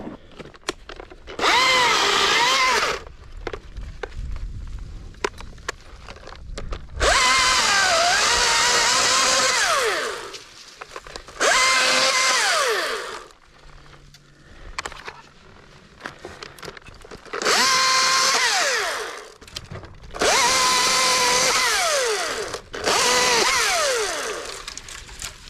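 A battery-powered Husqvarna chainsaw cuts into a tree, revving in several loud, whining bursts lasting a few seconds each, separated by quieter pauses.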